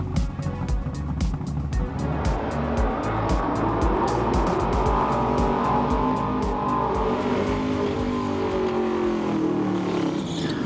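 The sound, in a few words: drag racing cars at Street Eliminator finals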